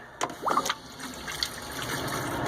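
Water running from the faucet in a 1999 Comfort Camp 1100SECC slide-in camper, a short close splash and steady flow over a faint hiss.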